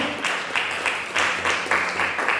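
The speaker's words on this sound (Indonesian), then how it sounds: "Tepuk tangan dong." A church congregation applauding during a sermon, many hands clapping in loud, uneven surges that rise and fall about every half second, with no speech over it.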